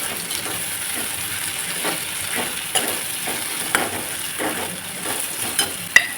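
Cut green chillies frying in a hot pan, a steady close sizzle and hiss with occasional faint stirring taps and small pops throughout.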